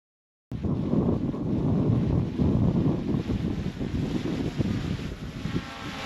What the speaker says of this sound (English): The wind's blowing him around a little bit.